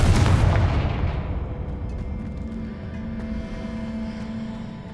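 A Confringo fire spell from Hogwarts Legacy exploding with a loud, close boom at the start, then a long rumbling decay and low fading hum.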